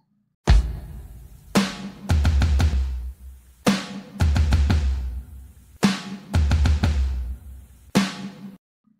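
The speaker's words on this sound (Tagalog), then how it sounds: "Ito ay tambol." A drum is struck in a repeating pattern of one strong hit followed by a quick cluster of rapid beats, cycling four times, loud and close with ringing low resonance, then silence.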